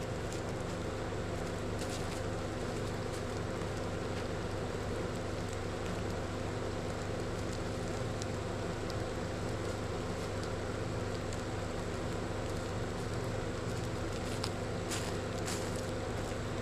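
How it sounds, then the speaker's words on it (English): Rain falls outdoors in a steady, even hiss across the whole stretch, with faint ticks of drops and no talking. "Well, it's starting to rain"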